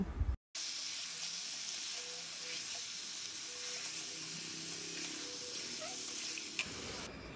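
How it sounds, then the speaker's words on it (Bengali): Mutton pieces frying with lightly fried spices in a pan for a Bengali mutton kosha curry, a steady, close sizzle and hiss after a brief clatter at the start, with no one talking. "মশলাগুলো আমি একটু হালকা ভেজে নিয়ে তারপর এখন দিয়ে দিচ্ছি মাটনগুলো"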